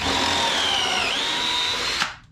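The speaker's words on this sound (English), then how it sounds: "I'm going to use this far side over here to drill my next hole" A power drill boring a pocket hole in cabinet wood for a skoolie build, a steady high whine held for about two seconds and then cut off, close and loud with no talk.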